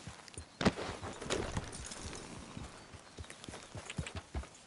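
A horse in Red Dead Redemption 2 runs with steady hoof clip-clops and scattered thuds at moderate distance, the rhythm loose and uneven, with no talk over it.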